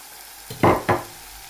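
Chopped ginger, garlic and chili are stirred into tuver papdi frying in a pan. Two short, close scraping strokes rise over a low background.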